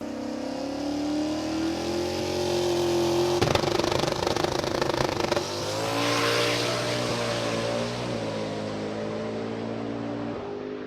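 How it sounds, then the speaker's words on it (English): A race car roars down the track, its engine note holding a steady high drone with rising harmonic sweeps, close and loud throughout, with a harsher burst of mechanical noise midway and no talking. "we got a video from behind, and the car goes down beautifully."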